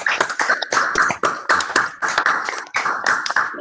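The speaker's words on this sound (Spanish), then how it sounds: "abra los micrófonos para darle un merecido aplauso" Audience applause through opened microphones after a political debate, heard as close, crisp bursts of clapping with short pauses between rounds, loud and slightly irregular.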